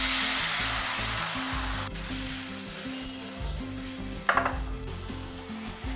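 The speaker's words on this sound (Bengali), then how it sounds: "বাদামগুলো যখন হালকা ফাটতে শুরু করেছে ঠিক সেই সময় দিয়ে দেব জল" Water poured into a hot pan of lightly browned frying peanuts bursts into a loud, rushing sizzle that gradually dies down, with a clatter of the pan and a low musical backing underneath.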